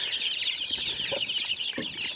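Many chicks, including Australorps, squawk and cheep continuously while being fed outdoors, a dense, high-pitched chorus close by, with a few lower clucks breaking through.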